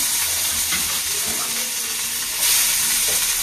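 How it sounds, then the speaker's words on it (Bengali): Chopped onion sizzles as it hits hot oil in a wok, making a continuous hiss that swells louder near the end, with no talking. "কড়াই তেল গরম হয়ে গেছে, তেলের উপর পেঁয়াজটা দিয়ে দেবো।"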